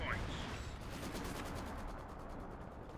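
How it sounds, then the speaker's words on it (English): Heavy ML-20 howitzer artillery firing in the battle game Company of Heroes 2, a dense rumbling barrage of booms and battle noise that runs continuously without a break. "ML20 continuing to fire."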